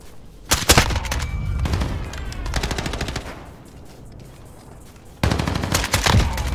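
Rapid bursts of gunfire crack in a video game gunfight, loud clusters of shots opening and closing the stretch with a quieter rattling lull between them.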